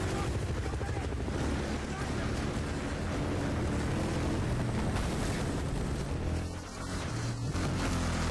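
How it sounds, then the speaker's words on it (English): A helicopter in the Battlefield Bad Company 2 video game, a dense whirring rotor roar mixed with battle noise and wind, loud and continuous, with people talking over it. "Chopper. Chopper."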